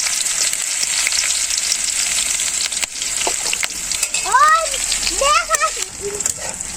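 Chopped onion and chili frying in oil with cumin and bay leaf in a pan, a strong continuous sizzle with a few knocks and scrapes, while a voice speaks briefly over it.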